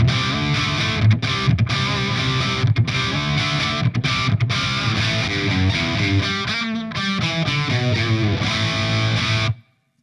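An electric guitar with humbuckers plays loud distorted riffs through a Blackstar St. James 50W EL34 tube amp, with rhythmic chugging chords and short breaks before stopping abruptly.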